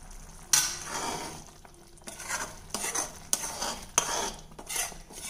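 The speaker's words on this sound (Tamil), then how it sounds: "இப்போ நல்லா கொதிக்க ஆரம்பிச்சிருச்சுங்க." Tomato gravy cooks in a pan on the stove, with bursts of bubbling, sizzling and stirring scrapes coming and going near the microphone, loud against a quieter hiss, with no talking.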